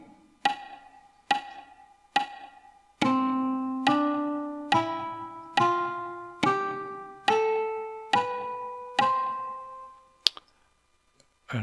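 Notation software plays four count-in clicks, then a major scale of eight evenly spaced piano-like notes climbing step by step, each note decaying cleanly, ending with a brief click, heard alone without speech.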